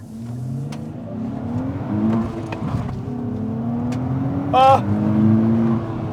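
A 2023 Nissan Z sports car pulls away on gravel in first gear, its engine note climbing steadily and loud from inside the cabin, with a brief sharp rev spike near the end and a voice exclaiming over it.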